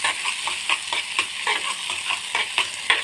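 Onions sizzle in hot oil with mustard seeds in a pan, with repeated stirring scrapes, a steady crackle of frying close by.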